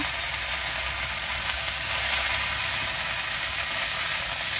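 Red spinach leaves dropped into a pan of fried garlic crackle with a steady, close hiss of frying that holds at an even level throughout, with no one talking.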